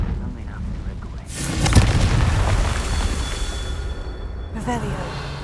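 A Confringo blasting spell explodes in a video game with a loud, sudden boom that rumbles on for a few seconds, and a voice speaks before the blast.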